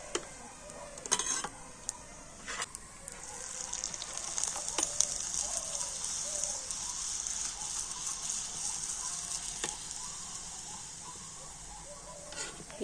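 Crispy leaf-shaped rice pitha crackers, made from cooked rice, frying in hot oil: a continuous soft sizzling hiss with scattered small pops and ticks, steady and fairly quiet throughout.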